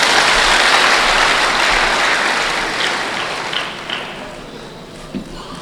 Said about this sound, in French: Applaudissez-les, s'il vous plaît